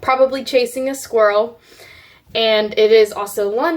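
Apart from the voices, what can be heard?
No everyday noises stand out.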